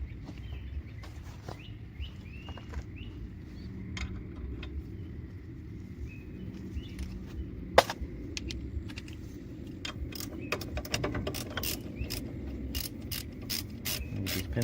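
A hand ratchet clicks in short bursts while a brake caliper is removed from a Ford Econoline van, the sharp rapid clicks growing denser toward the end over a low background hum.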